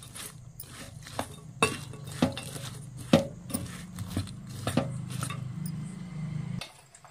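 Spiced bitter gourd is stirred and mixed in a bowl, with soft scraping, a low rumble and scattered clinks and taps of a utensil against the dish that fade out at the end.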